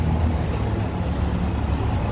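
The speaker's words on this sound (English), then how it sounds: "That bus is making a lot of noise. Very, very noisy engine." A city bus with a loud, noisy engine on Michigan Avenue in downtown Chicago gives a steady low rumble, close by and continuous, mixed with surrounding street traffic.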